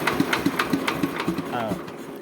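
A small converted mini tractor engine runs at a steady idle with regular low chugging pulses, while someone talks over it close by.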